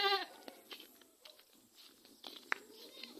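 Goats bleating in a backyard: a loud harmonic bleat opens, followed by softer scattered calls and rustling, with a brief sharp cry near the end.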